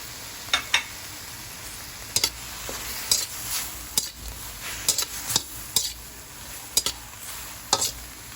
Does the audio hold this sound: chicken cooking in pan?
yes